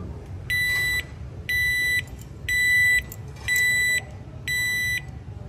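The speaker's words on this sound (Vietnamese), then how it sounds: "Khi đó ai đó đụng vào khóa sẽ cảnh cáo liền bằng 5 tiếng bíp." A ZORO alarm padlock, touched while armed, gives a series of five loud electronic warning beeps in an even rhythm, each about half a second long, over a low background rumble.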